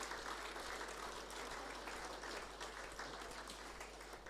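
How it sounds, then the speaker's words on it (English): Audience applause for award winners at a senior football league presentation night and dinner, a steady, dense wash of clapping from a room full of people, sustained throughout at an even level. "Could you just give them all a round of applause very quickly?"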